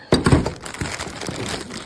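A plastic bag crinkles close by as a cordless Milwaukee M18 hammer drill is unpacked from it, producing a loud rustling burst followed by softer, scattered crackles.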